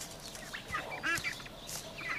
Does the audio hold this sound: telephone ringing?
no